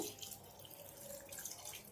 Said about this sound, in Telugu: వాటర్ కొన్ని వేస్తున్నాను